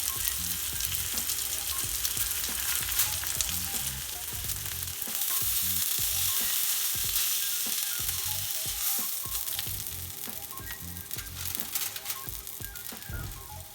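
Lamb chops frying in oil in a pan, a steady close sizzle and crackle with scattered pops and utensil clinks, continuing without any voice.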